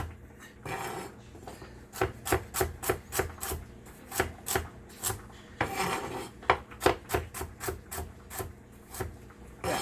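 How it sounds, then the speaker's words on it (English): A knife chops small tri-colored carrots on a cutting board, giving a steady run of sharp, close, evenly spaced knocks that grows faster and denser toward the end, with no talking. "We also have a couple of small tri-colored carrots, and we're just gonna go ahead and give them a quick chop."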